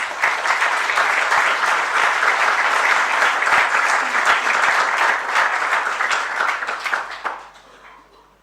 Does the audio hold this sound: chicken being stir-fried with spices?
no